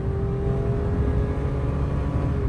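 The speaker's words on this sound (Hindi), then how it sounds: "देखो ये 660 सीसी टर्बो चार्ज है।" A 660cc turbocharged car engine runs close by with a steady, throbbing hum and a thin tonal whine, holding a constant pitch throughout with no voices.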